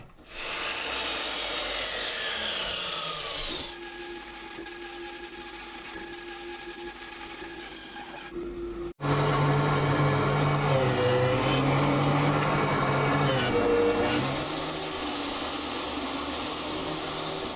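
A power saw cuts a wooden board in a woodworking shop, a loud whine that rises and falls through two separate passes with a brief gap between them, alone without talk.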